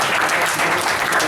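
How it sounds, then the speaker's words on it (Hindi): Audience of school teachers clapping at an introduction session, a dense even burst of applause held steadily through the short moment. "धन्यवाद तालियों के लिए।"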